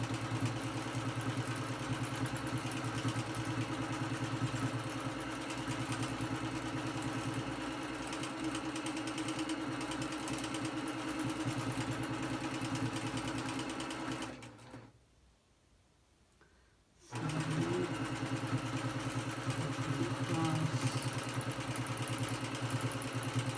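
A sewing machine stitches steadily and closely, quilting through fabric backed with fusible grid interfacing, a continuous mechanical hum that drops out briefly midway before resuming.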